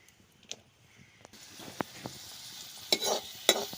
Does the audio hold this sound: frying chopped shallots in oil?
yes